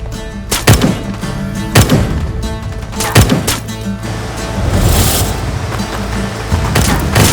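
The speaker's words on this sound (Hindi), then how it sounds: "जवानों, गोली चलाओ।" Soldiers' gunfire in a battle scene from a Turkish drama: several heavy booming shots at intervals, then a rolling volley of rapid overlapping fire, loud and close over a musical score.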